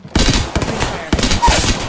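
The Hemlock burst assault rifle fires in Apex Legends on PC, in sharp, loud bursts close by, with a short pause between two clusters of shots and a brief game voice line.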